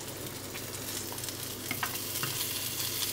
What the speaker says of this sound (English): let's put the onions on the pan because the butter is already burning